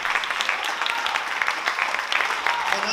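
Audience applause at a big band jazz concert, a steady spread of many hands clapping at fairly loud level, continuous throughout with a hint of voices underneath.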